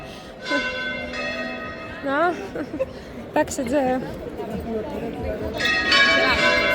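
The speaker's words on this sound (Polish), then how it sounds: "Dzwony jak zawsze na zakończenie." Church bells ring steadily in the background in Milan on a Sunday while people talk nearby, with a busy crowd murmur and the bells swelling louder toward the end.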